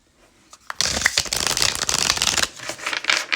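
A deck of tarot cards shuffled by hand in a sustained, riffling burst of papery flicks and slaps, close and fairly loud after a brief quiet start, with no talking.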